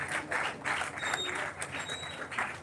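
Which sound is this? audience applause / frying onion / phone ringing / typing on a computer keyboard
audience applause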